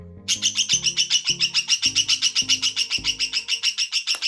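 A pet budgie chirps and screams in a rapid, steady series of sharp calls, loud and close, over music.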